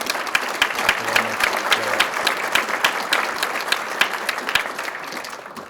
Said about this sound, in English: another round of applause for our judges for doing the good work that they did